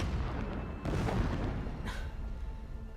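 Distant blasting explosions in Horizon Zero Dawn, a low rumbling backdrop with a heavier boom about a second in and a sharper crack shortly after, moderately faint and unaccompanied by talk.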